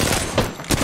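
Bursts of gunfire in the battle royale game Apex Legends, dense and noisy, with several loud rapid volleys that come and go.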